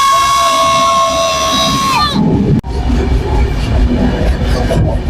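A train climbing uphill on the Coimbatore to Mumbai route rumbles loudly, with a steady whistle-like tone for the first two seconds, a sharp bang, then a continuous rolling, rattling clatter.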